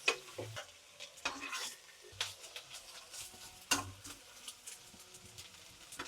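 Quiet sizzling of beef browning in a pan for beef bourguignon, punctuated by occasional scraping stirs and utensil clicks, close and fairly soft.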